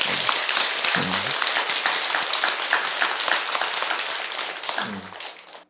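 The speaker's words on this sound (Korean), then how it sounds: "또 박수 한번 쳐주세요 여러분." An audience at a Buddhist monk's sutra lecture claps together in steady, sustained applause that gradually fades at the end, with a brief voice heard twice underneath.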